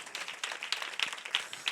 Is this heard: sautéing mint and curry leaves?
no